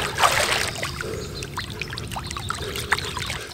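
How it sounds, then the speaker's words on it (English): Hands splash in and out of pool water during a swimming workout, giving a burst of splashing followed by lighter trickles and drips close by. "On your rest, you can put your hands in the water"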